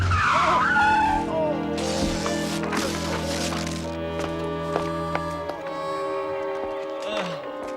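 A car skids to a sudden stop with loud, sustained tyre squeal and engine noise throughout, followed by a sharp pitch-falling screech near the end.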